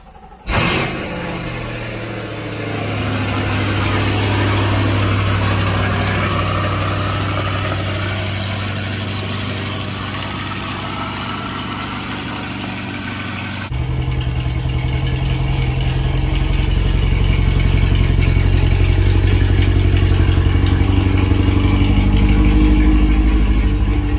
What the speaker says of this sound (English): I'm gonna start the car, and y'all are gonna see exactly how loud this thing is now.